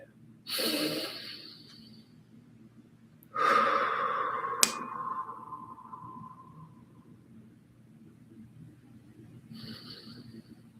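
Slow, deep breaths during a guided breathing exercise, with audible inhales and long, airy exhales, each breath separated by quiet pauses, close to the microphone.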